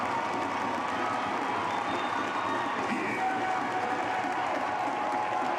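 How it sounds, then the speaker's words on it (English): The home crowd at a Dominica vs Jamaica Concacaf World Cup qualifier roars and applauds late in the match, a sustained wash of cheering and clapping from a large stadium crowd. "One last roar from the Dominica crowd."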